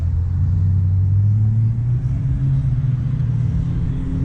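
At a York street rod show, a car engine rumbles as it pulls away. A low, steady drone swells slightly and holds through the stretch, with no voices over it.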